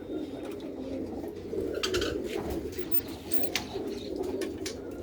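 Soft, repeated cooing of pigeons at close range, low throaty calls rising and falling over a quiet background with occasional rustles.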